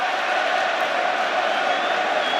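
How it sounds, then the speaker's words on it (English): Leeds United supporters celebrate in the south stand at a Premier League match against Liverpool, their crowd noise a steady, unbroken roar heard from a distance. "In the southeast corner of the south stand, they are still celebrating."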